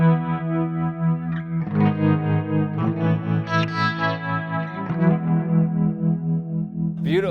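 Electric guitar runs through a Fractal Axe-Fx III with panning, chorus-like modulation and echo effects, sustaining held chords that swell and shift over several seconds with no talking.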